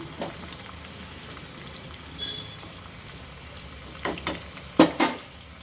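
Curry leaves and byadagi chillies fry in hot oil with a faint, steady crackle, broken by a few sharper pops and spits toward the end.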